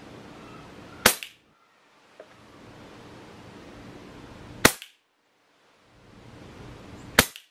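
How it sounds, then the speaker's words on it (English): A Crosman 2400KT air pistol fitted with a TKO muzzle brake fires three sharp, close shots a few seconds apart, each a crisp crack, with faint background hiss between them. "That's five shots."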